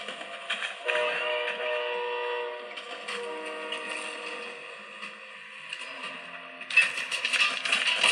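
Train in the Fortnite video game running on a phone, a mechanical rumble with horn-like tonal hums, moderately quiet, and a brighter burst of game sounds near the end.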